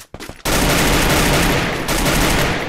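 Rapid automatic gunfire in the Free Fire battle game, loud and dense, a short burst opening before a sustained roar of shots that runs to the end with a brief dip, no talking.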